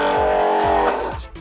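An Anlu jet cleaner pressure washer motor starts up and settles into a steady, loud electric hum with a few brief rising whines, close by and without talk.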